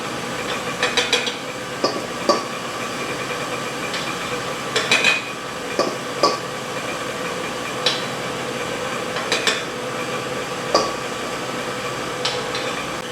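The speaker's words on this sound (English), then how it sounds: "Now adding the flour. Take it nice and slow so it can mix up good." Flour slowly stirred into chili in a crock pot, heard as scattered clinks and scrapes of a utensil against the pot over a steady background hum, with no talking.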